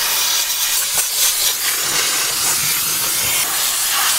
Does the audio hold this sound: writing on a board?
no